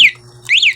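An installed motorcycle alarm goes off after being triggered, giving loud, close electronic chirps that sweep down and back up in pitch, two quick bursts.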